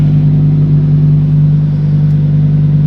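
Lamborghini engine in Corsa mode, a loud steady idle hum with a strong low tone and close, even rumble that holds level without clear revs, and no voices.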